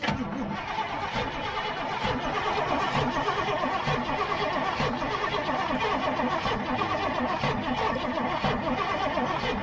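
A bucket truck engine with a troublesome Holley carburetor churns and runs steadily and loudly throughout, a dense rough mechanical drone with no clear pauses.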